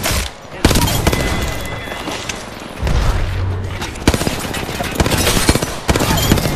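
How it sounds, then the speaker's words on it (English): Dense video game gunfire rattles almost nonstop in loud rapid bursts and single heavy shots, with booming impacts layered throughout. "bullets are shooting at me"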